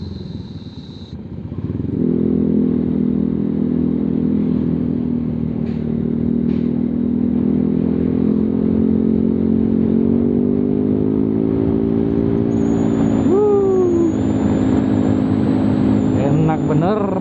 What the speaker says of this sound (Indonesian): kira-kira ginilah suara knalpot Proliner pemakaian selama kurang lebih 7 bulan, masih enak.